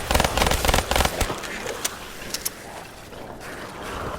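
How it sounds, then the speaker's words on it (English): Grenade blasts thrown at a group of zombies in Call of Duty: Black Ops Zombies, Nacht der Untoten, a dense crackling burst of explosions and gunfire early on that thins into scattered pops and a low rumbling background. "chuck all the grenades that we can, and just start taking them down"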